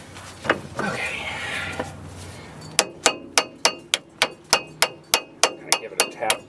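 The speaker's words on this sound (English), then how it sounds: "Kind of give it a tap, get the socket back off." A hammer taps repeatedly on the front wheel hub of a 2004 Jeep Liberty, a steady series of about a dozen sharp metallic strikes close up, following a brief stretch of mechanical noise.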